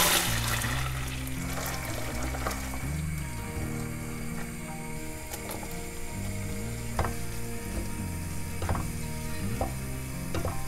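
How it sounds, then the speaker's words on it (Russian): Onion sizzles steadily in butter in a hot frying pan, with soft crackling and occasional scraping or clicking sounds nearby, no voices. "Когда масло начнет шипеть, отправляем в сковородку лук, обжариваем его"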